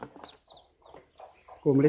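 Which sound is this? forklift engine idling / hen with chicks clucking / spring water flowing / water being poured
hen with chicks clucking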